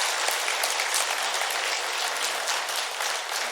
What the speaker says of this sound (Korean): 우리 격려와 사랑의 박수 한번 드리도록 하겠습니다